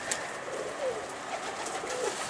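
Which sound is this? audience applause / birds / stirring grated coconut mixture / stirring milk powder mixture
birds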